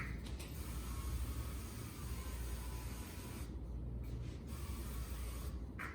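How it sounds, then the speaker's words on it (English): Avocado oil sprays onto a heating pan with a continuous broad hiss that fills the whole stretch, loud and close, with brief dips near the end. "I'm gonna go ahead and spray it with the avocado oil"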